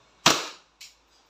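A WE Glock 17 Gen 5 airsoft pistol fires a single sharp, loud crack up close, with a decaying tail and a fainter second burst just after, with no voices.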